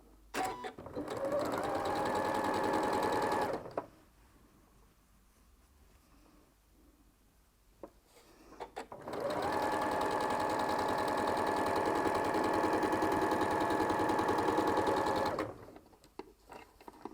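A sewing machine chain pieces a rail fence quilt block made from fat quarters, running in two long steady bursts of close, whirring stitching separated by a quiet pause of several seconds.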